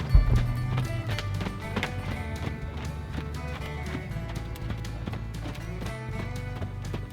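A young horse being started under saddle moves around at a walk, its hooves clip-clopping in a steady rhythm on the ground beneath a constant layer of background noise, with no one talking.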